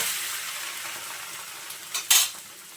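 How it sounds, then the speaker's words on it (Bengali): An egg fries with a steady, close sizzle in a pan, with a few brisk spatula scrapes near the end as it is flipped while making an egg and mozzarella cheese paratha. "এখন আমি ডিমটা পাল্টে নিচ্ছি"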